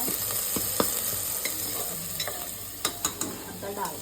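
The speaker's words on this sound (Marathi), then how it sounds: "एक खूप भारी फोडणी दिसते मस्त" A Marathi phodni tempering sizzles in a hot pan, a close, constant hiss broken by sharp clinks and scrapes from a spoon against the metal.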